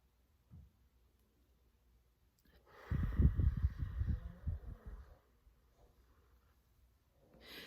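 A single deep breath, a slow drawn-in inhale followed by a long breathy exhale, close and fairly soft in a quiet room.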